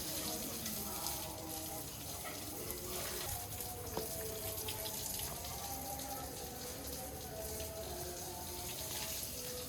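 Water sprays in a steady, faint hiss from a hose, running continuously, with muffled voices talking in the background.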